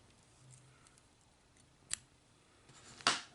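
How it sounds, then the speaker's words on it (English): Scissors snip excess thread from a foam crawdad fly, two short, sharp cuts, the second louder and closer, in an otherwise quiet space. "I'm going to trim off this excess."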